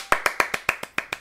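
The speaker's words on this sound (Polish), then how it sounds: "Możemy klaskać" Eight crisp, evenly spaced hand claps in quick succession, close and dry, with no voices.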